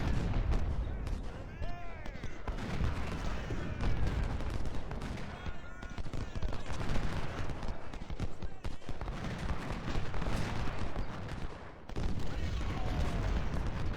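Point-blank artillery fire in a Civil War video game, a dense, loud barrage of cannon blasts and gunfire rolling on without pause under a faint voice.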